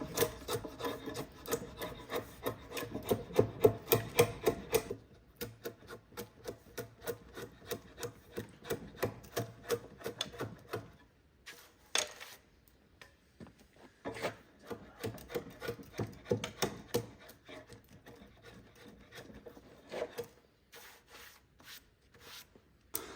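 A timber-framing slick pares wood off a tenon in repeated rasping strokes, rhythmic and close, with short pauses between bursts and no talk.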